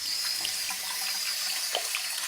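Water running steadily from a household tap, a constant hiss with small splashes, close and alone.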